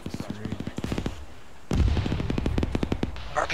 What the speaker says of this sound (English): RPG explosion east.